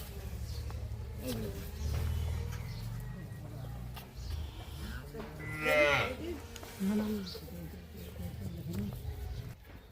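Several cows and calves moo loudly nearby on a farm, with long low calls overlapping one another, while a person talks quietly in the background.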